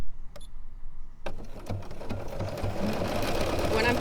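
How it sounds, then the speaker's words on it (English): A sewing machine, run without its foot pedal for decorative stitching, starts up after a few clicks and settles into a rapid, even mechanical stitching rhythm close by, with some quiet talk underneath. "I am sewing without my foot pedal."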